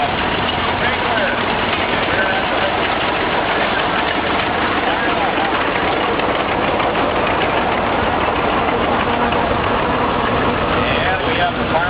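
Antique International tractor engines, a W6 and a Model 8, run steadily at a threshing-show parade, a continuous loud mechanical drone with rough chugging texture, while people talk over it.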